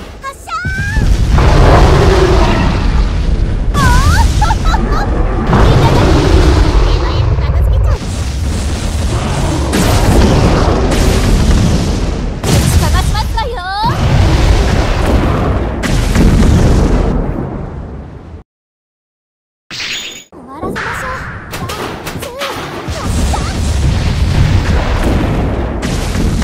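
In Abyss Horizon, heavy weapon fire and explosions boom over and over, loud and close, with a short gap of silence partway through and a Japanese voice speaking between the blasts.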